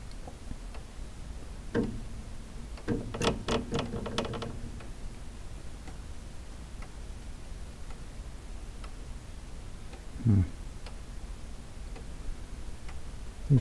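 A mechanical clock being tested after repair gives a faint, steady ticking, with brief louder bursts of clattering handling and a knock near the end, no talk.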